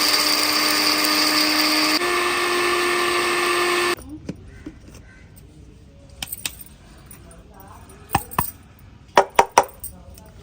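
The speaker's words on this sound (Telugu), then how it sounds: "పొడి మసాలాలకైతే మిక్సీ బ్లెండర్ తీసుకున్నాను చిన్న బ్లెండర్ దాంట్లో అయితే పట్టేస్తున్నాను" A small mixie blender grinds dry spice masala with a loud, steady motor whine for about four seconds, the pitch stepping down partway. It then stops, leaving scattered clinks and handling knocks.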